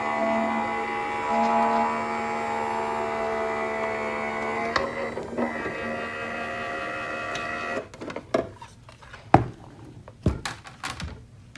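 Sizzix die-cutting machine cranking a 3D embossing folder through its rollers, a steady mechanical grinding hum for several seconds, then scattered clicks and knocks as the folder comes out.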